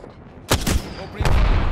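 Gunfire in a video game, two or three sharp loud blasts in quick succession with rumbling tails, heard close.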